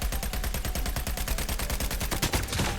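Rapid automatic gunfire in the mobile shooter Call of Duty Mobile, a steady burst of evenly spaced shots running loud and close for nearly three seconds with no talk.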